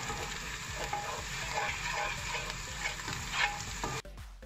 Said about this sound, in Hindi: अब इसको हम मिक्स करेंगे अच्छी तरह से और इसको इन्फ्यूज़ होने देंगे अ फ्यू मिनट्स के लिए